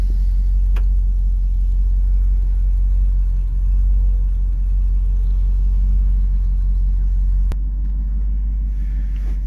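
Engine of a 1968 Ford F250 four-speed manual pickup, in first gear on a steep incline, gives a loud, steady low rumble that shifts slightly near the end, with a couple of sharp clicks.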